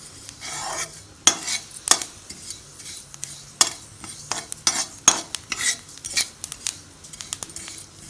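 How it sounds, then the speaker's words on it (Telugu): Sesame seeds and peppercorns dry-roasting on a low flame, stirred with a utensil that makes irregular scraping clinks and taps against the pan, close and moderately loud, with a faint background rustle. "మిరియాలు వేసి లో ఫ్లేమ్లో కొంచెం వేయించుకోవాలి"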